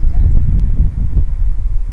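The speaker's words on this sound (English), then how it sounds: "So it's kind of windy" Gusty outdoor wind buffets the microphone in a steady low rumble for the full two seconds, loud and continuous with small surges and no voices.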